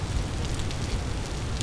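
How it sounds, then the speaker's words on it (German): Rain falling in the video game Vintage Story: a dense, steady hiss of rainfall with a low rumble beneath, constant and moderately loud, with no voices. "Der Regen, der nervt."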